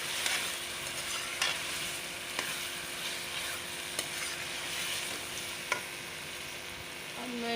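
Okra and minced meat fry with a steady close sizzle in a pan, broken by several sharp scrapes and clicks as a utensil stirs them. No one speaks.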